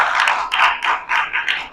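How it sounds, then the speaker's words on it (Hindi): An audience claps at an award ceremony for social workers held by a welfare foundation. The claps come in short, rhythmic bursts that sound close and steady, with no talking. "जोरदार आप लोगों के लिए तालियां हो।"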